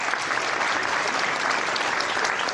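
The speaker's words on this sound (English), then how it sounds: "Big round of applause." A round of applause from the audience at a live golf talk show with an actor and a PGA pro, a steady and moderately loud wash of clapping heard on its own.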